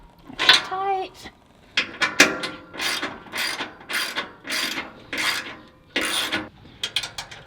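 A ratchet fitted with a 13mm socket tightens bolts on a catalytic converter anti-theft plate under a 2022+ Toyota Tundra, giving repeated bursts of close, crisp clicking in an even rhythm, with brief speech near the start.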